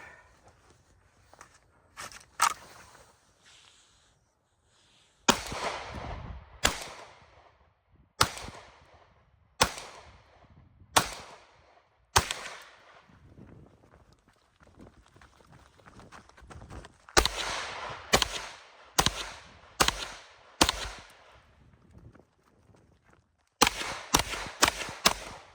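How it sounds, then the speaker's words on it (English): Staccato P pistol shots ring out at a distance shooting range, sharp cracks in short irregular strings with long pauses between groups, each shot loud and crisp against quiet surroundings. "So we're gonna try to get some distance shooting out here."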